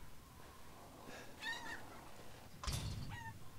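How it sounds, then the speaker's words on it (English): A chicken in the video game Resident Evil Village clucks in a few short, throaty bursts, moderately close over a steady hiss of background ambience, with no speech. "Chicken!"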